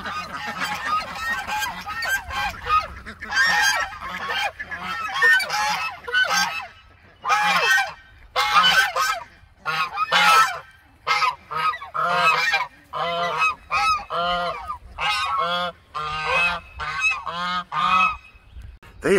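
Geese honk loudly and repeatedly in a backyard flock, with close, overlapping calls in irregular bursts separated by brief pauses and some wind noise.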